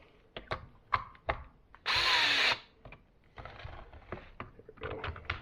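A power drill drives screws into an Ego LB6000 backpack blower under repair, one loud whirring burst of about a second amid close clicks and handling knocks of plastic parts.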